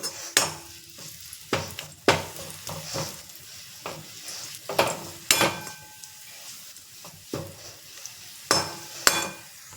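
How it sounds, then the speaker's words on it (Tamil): Ingredients for puli sadham powder dry-roasting in a pan, with repeated sharp scrapes and clinks of a spoon against the metal every second or so over a faint sizzle, close and uneven in rhythm. "நல்லா மொடன்னு வரணும், அந்த மாதிரி வறுத்துடலாம்"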